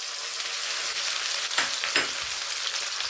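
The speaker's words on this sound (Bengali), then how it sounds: "চিয়ে রাখা পেঁয়াজটা দিয়ে দিলাম তেলের মধ্যে" Chopped onions sizzle in hot oil with a steady, bright frying hiss, broken by a couple of short stirring scrapes in the middle.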